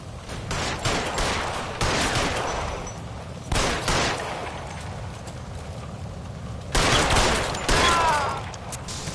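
Repeated gunfire in L.A. Noire, shots bursting in several clusters over a steady rumbling background, fairly loud and close, with no talking.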